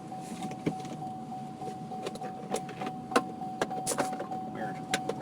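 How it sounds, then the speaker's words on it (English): An overheating car engine idles, heard from inside the vehicle as a steady hum with a thin constant whine and scattered light clicks and knocks, moderately loud. "Engine overheating."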